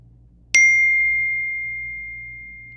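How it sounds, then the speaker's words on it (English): A single bright phone text-message notification ding rings out clearly in a quiet room, its pure tone lingering and slowly fading over a couple of seconds. "I just got texted with some ideas."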